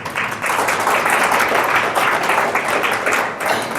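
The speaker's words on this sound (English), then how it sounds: "And to all of those of you who clap so enthusiastically" An audience applauds enthusiastically after a talk on the environment and a court challenge to a nuclear deal, a dense, loud, sustained wash of many hands clapping that rises quickly and holds steady.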